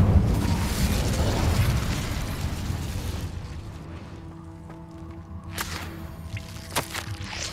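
A fiery spell blast from the Hogwarts Legacy video game roars and crackles loudly at first, then fades into a lower mechanical hum with a couple of sharp clicks and pops near the end.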